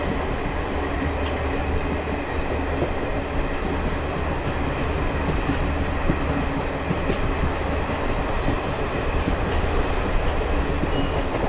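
The 12216 Bandra–Delhi Sarai Rohilla Garib Rath Express rolls through Bilimora Junction with a steady, loud rumble and rattle from onboard, wheels clattering continuously without pause and no voices.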